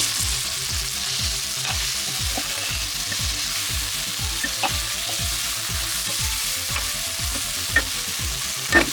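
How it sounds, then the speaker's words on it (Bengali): Bitter gourd (karela) fries in a pan while a utensil stirs it in a quick, regular scraping rhythm over a constant close sizzle, with no voices. "একটু নাড়াচাড়া করে নেওয়া হলো করলাটা।"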